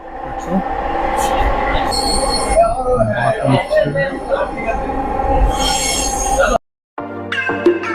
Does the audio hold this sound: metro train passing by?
yes